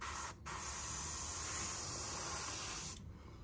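Airbrush, a 0.38 Galari Ace, spraying gold paint along the lateral line of a 9-inch swimbait fishing lure: a steady close hiss lasting about three seconds, briefly interrupted near the start.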